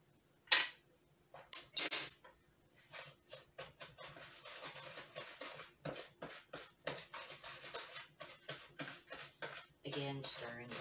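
Eggs and butter for banana cake batter stirred in a bowl, with quick repeated scraping and clinking strokes of a utensil against the dish in an uneven rhythm, close and fairly loud.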